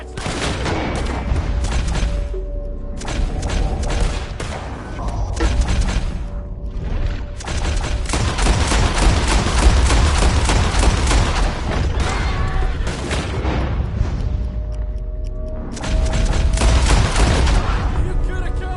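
Heavy gunfire in Red Dead Redemption 2 crackles in dense volleys of overlapping shots, loud and near, broken by brief lulls throughout.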